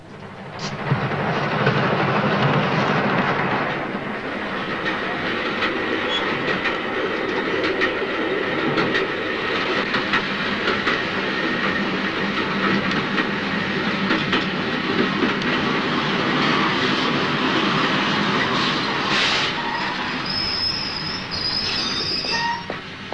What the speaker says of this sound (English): The train is just leaving.